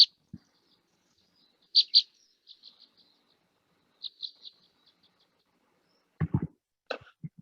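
A recorded finch call plays back as thin, high, squeaky chirps in short clusters with quiet gaps between them, followed by a few low thumps and clicks near the end.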